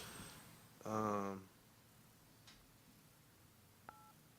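A phone button press produces a short burst of dialing tones, faint and close in a quiet room, followed later by a brief second beep, with no talking over it.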